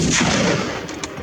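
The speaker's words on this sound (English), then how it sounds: "The moment its head emerged, I pulled the trigger." A rifle gunshot during a wild boar hunt: one loud, close blast with a rolling echo that fades over about a second, with no speech.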